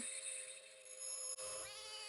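A cat in an episode of the TV series UFO lets out a drawn-out, wavering meow with steady tonal harmonics. It breaks off briefly near the end and then resumes, fairly faint, with no talking.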